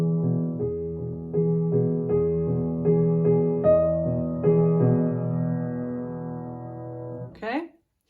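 Piano plays the ending section of a song as a steady sequence of repeated chords and single notes, close and clear, ringing out toward the end before a short noisy sound cuts in.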